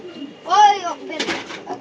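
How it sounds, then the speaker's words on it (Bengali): A pigeon at a large pigeon farm gives a short throaty coo, close by, followed by a brief breathy rustle. "এটা কি কবুতর তোমার হাতে এটা টেরি কবুতর"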